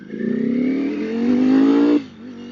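A 2021 Ducati Streetfighter motorcycle engine revs hard under acceleration, its pitch climbing steadily for about two seconds before cutting off sharply into a lower idle-like drone; loud and close, no talking.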